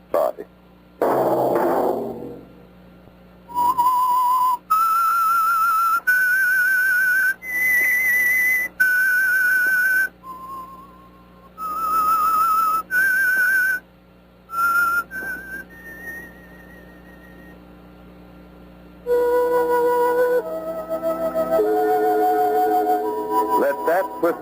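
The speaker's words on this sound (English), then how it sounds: "Let that whistle be your signal for the Whistler." A lone whistler performs the eerie signature theme of the 1940s radio mystery drama The Whistler, a slow melody of sustained, clear notes rising and falling with short pauses between phrases, loud and close.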